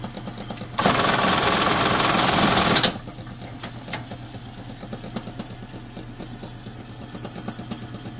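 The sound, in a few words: bartacker machine stitching a helmet chin strap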